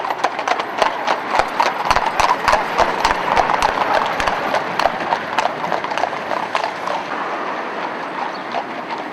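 Horses' hooves clip-clop on a road in a steady, fairly close rhythm, heavy horses being conditioned on roads and lanes for a long cart journey, sounding continuously with no talk.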